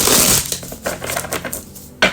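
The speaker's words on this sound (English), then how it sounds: "I'm going to stop shuffling" Tarot cards being shuffled by hand, a quick run of close, crisp papery riffles and flicks in uneven bursts, ending with a sharp snap of the deck, with no talk.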